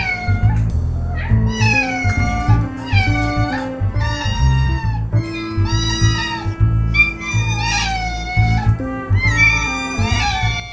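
Several baby kittens meow insistently and repeatedly for tuna, overlapping high-pitched cries close by, loud and nearly continuous with brief pauses.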